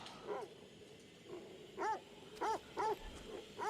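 A dog whimpers and yips in the video game The Devil in Me, with several short, rising-and-falling whines in quick succession, faint and fairly close.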